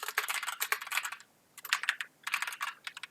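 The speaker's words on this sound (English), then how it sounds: "I can type into my text box" Rapid bursts of typing on a computer keyboard entering text into a box, close and crisp, with a short pause between runs of keystrokes.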